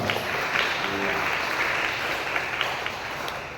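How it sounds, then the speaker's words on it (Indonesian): A crowd claps steadily, a dense, even patter of applause that holds at the same level throughout. "Tepuk tangan dulu untuk Balumpa"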